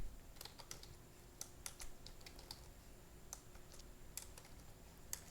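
Code being typed on a computer keyboard: a quiet, irregular run of light key clicks with short pauses between bursts, close by, with no talking.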